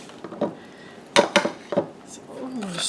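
Strawberry Jell-O mix stirred into green tomato jelly in a pot, heard as a few sharp metallic clinks and scrapes of a spoon, close and bunched together, with a faint voice in the background.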